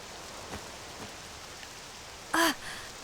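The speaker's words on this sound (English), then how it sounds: "Can't believe it's raining grape drink." Purple rain falling in Octopath Traveler II, a soft, steady hiss of rainfall heard alone at low volume, broken by a few faint swells and one short, brighter burst near the end.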